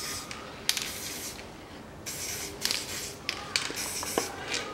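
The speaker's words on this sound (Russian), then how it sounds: "я вовнутрь на гайку тоже набрызгал смазки" Spray lubricant hisses onto the strut studs and nut of a 2005 Toyota Passo front strut in several short, close bursts, with faint handling noises between them.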